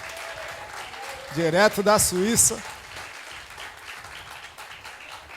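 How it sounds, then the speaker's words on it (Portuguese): Congregation applauding at a special church worship service, a brief burst of clapping under a speaking voice and some vocal sounds, with background crowd noise before and after. "você pode aplaudir ao Senhor"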